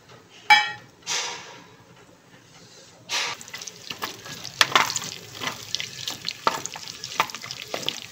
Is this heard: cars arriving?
no